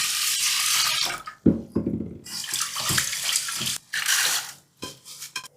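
Rice being rinsed in water for Japanese temaki, close and loud splashing and sloshing in repeated swirls broken by short pauses, with running water from a tap.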